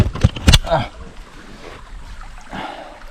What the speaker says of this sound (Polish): Woda mi tutaj szemrzy. Tu jest maleńki wodospad.